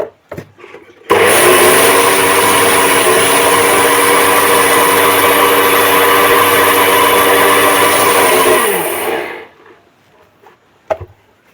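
A grinder crushes roasted dill seeds, a loud steady whirring roar that starts abruptly, runs continuously for about eight seconds, then winds down to silence, with a few faint knocks before and after.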